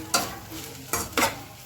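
Okra cooking in a pan is stirred in three sharp scraping strokes with sizzling frying between them, close and fairly loud, no talk.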